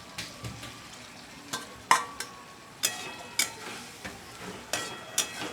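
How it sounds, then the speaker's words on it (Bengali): Potato and pumpkin chunks going into spices frying in oil for a Bengali curry, giving a low background sizzle broken by repeated sharp stirring scrapes and clinks, no talk. "এবার আমি আলু কুমড়োটা দিয়ে দিচ্ছি"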